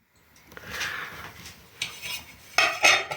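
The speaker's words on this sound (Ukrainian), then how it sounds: "Накриваємо каструлю кришкою." Metal scrapes and clanks as a lid is set onto a pot of simmering porcini mushroom soup, ending in a couple of sharper rattles close by.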